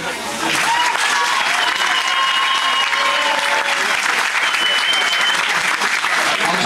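Loud, sustained audience applause fills a hall during an awards ceremony, steady dense clapping from a large crowd with some whistles, starting after a brief lead-in.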